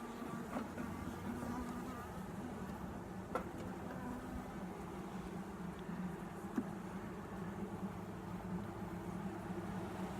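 Honeybees swarm around an opened hive where they hang on a bar building comb, a steady, dense buzzing that drones evenly for ten seconds at moderate distance, with a couple of faint knocks and no talk.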